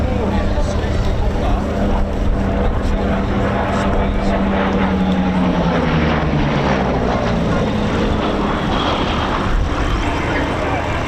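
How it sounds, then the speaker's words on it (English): A Mark 5 Spitfire, EE-602, roars past at an airshow, its piston engine a loud, steady drone that shifts in pitch as it passes, with a commentator's voice running over it. "the last pass of the Mark 5 Spitfire EE-602 coming in now for"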